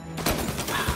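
Service revolver gunfire in Mafia: Definitive Edition, a short burst of sharp, loud cracks in quick succession over a dense in-game backdrop of ambience and effects.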